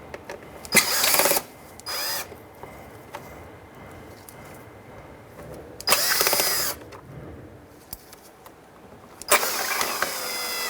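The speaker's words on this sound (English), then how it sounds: "now we're going to move on to our Phillips screws in the back" Three bursts of a cordless power drill backing Phillips screws out of the rear inner fender liner on a 2003-2011 Honda Element, each whir lasting about half a second to a second, close by over a quiet garage background.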